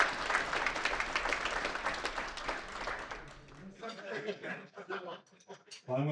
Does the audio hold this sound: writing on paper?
no